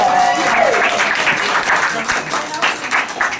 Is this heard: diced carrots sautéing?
no